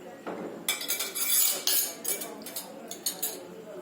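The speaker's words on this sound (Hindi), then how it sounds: "तो इस तरह से बाकी पल्प भी मैं निकाल लेती हूँ और इसको छोटे छोटे पीसेस में काट लेती हूँ।" A knife chops aloe vera pulp into small pieces, giving a close, steady run of crisp clicks and taps against a hard surface with no talking.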